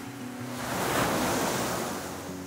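Indian Ocean surf breaking along the green Aceh Jaya coastline, a steady broadband wash that swells to a peak midway and then eases, with light wind over it and no voices.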